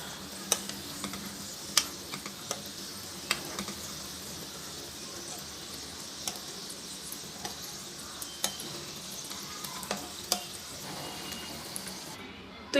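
Chicken cheese cones frying in hot oil, a steady low sizzle with sharp ticks and clicks of a spoon stirring and basting, fairly quiet and close.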